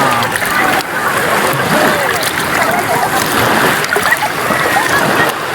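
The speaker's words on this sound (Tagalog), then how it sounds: "Malakas na yung alon dito." Strong sea waves wash and splash steadily close by, a dense continuous surge of surf and water sloshing with brief peaks, while people speak over it.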